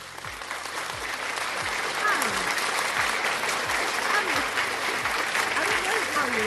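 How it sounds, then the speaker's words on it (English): Sustained applause from a crowd fills the stretch with dense, steady clapping at an even loudness, with a few voices faintly audible underneath. "It's a round of applause."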